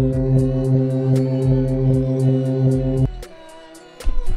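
A looped bass drum sample playing in Reason, with deep repeated thumps under a sustained low tone and small clicks and pops at each loop point, loud and close, dropping briefly before restarting.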